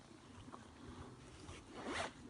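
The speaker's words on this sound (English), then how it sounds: "zip it up" A zipper is drawn shut on a carrying case holding a bank stick adapter and handle for fishing gear, a few soft pulls building to one quick, clear zip near the end.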